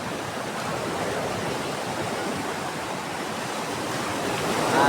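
Loud, steady roar of strong ocean waves at the shore near Patar, Bolinao, Pangasinan, a continuous broadband wash of surf with no pauses, swelling slightly louder toward the end, with no voices.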